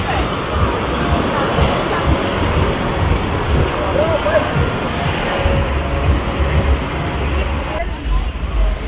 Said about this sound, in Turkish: Dalgalar çok güzel geliyor.